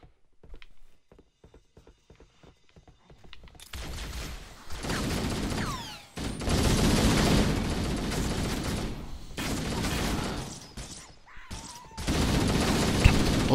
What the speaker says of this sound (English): Bullets are ricocheting all over the place.